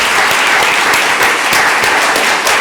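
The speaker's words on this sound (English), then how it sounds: "Let's give her a big round of applause." Loud, close applause from a conference audience honouring a keynote speaker at IPC 2024, with a thick, continuous patter of many hands and no voices over it.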